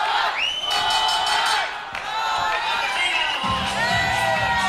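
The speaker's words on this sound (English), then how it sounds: "The crowd screaming Tovar." A live boxing crowd at a Friday night fight screams and chants a fighter's name, loud massed cheering and shrill shouts swelling in waves, near and continuous throughout.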